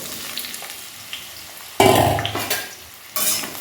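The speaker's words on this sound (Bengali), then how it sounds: "এবার আমি পেঁয়াজটাকে তেলে দিয়ে দেবো" Onion drops into hot mustard oil in a wok with a sudden loud sizzling burst, then a quieter crackle, a metal scrape and a second surge of frying.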